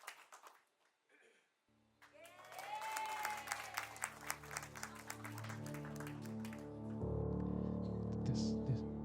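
Church congregation applause at a Sunday service, starting quietly then building into sustained clapping over lingering music and sung tones, with a low hum joining near the end.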